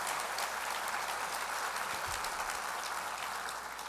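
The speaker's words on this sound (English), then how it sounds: "Let's go ahead and give them a round of applause." A crowd applauds steadily at a formal political address, the dense clapping holding a loud, even wash from start to finish with no voices over it.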